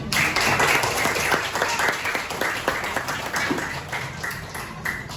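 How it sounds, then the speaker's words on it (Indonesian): Schoolchildren in a classroom applaud a student, a lively, close burst of many hands clapping that carries on steadily and tapers slightly toward the end. "tepuk tangan untuk Janis"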